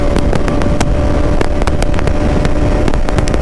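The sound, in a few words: Bajaj Pulsar NS 200 motorcycle engine riding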